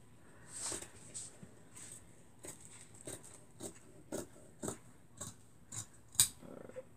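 Scissors snipping through fabric for a nightshirt, a series of crisp, irregular cuts spaced about half a second apart, fairly close and quiet with light background noise.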